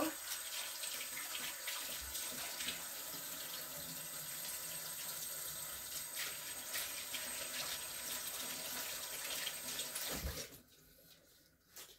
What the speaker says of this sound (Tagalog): Gasan ko lang yung kamay ko.